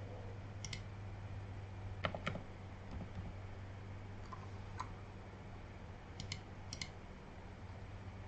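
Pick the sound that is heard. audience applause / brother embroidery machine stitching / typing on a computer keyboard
typing on a computer keyboard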